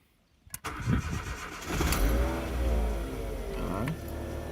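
A 2004 Ford Ka 1.6 with a power-loss fault cranks briefly and fires up, then settles into a steady, close engine run with a couple of rising revs, loud and with no talk.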